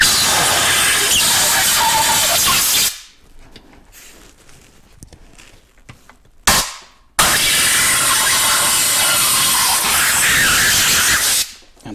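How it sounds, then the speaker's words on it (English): An air compressor nozzle blasts air into a mold to release ballistics gel, two long loud hissing bursts with a quieter gap of faint handling noises between them. "grab an air compressor, and stick it in there"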